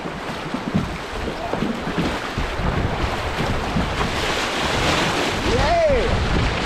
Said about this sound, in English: let's go through these rapids